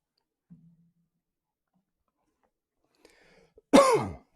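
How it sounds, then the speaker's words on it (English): Near-silence broken by a faint click, then one sharp, close cough with a rough throat-clearing rasp at the end. "Sorry if I'm coughing."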